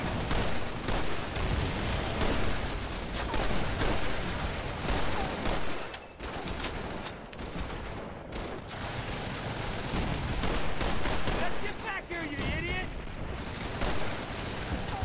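Continuous machine gun fire from an MG nest in Call of Duty 3 hammers away loud and close, rapid bursts layered with other gunfire and explosions and broken by a couple of brief lulls, with no talk over it.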